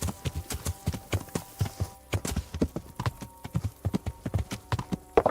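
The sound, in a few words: horse hooves in video game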